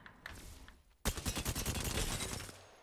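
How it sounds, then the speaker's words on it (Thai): Rapid automatic gunfire bursts from a first-person shooter game, preceded by a few faint shots, then a loud sustained fusillade of rattling rounds lasting about two seconds before tapering off. "เราพีกไปยิง แล้วก็นั่งหลบเงี้ย"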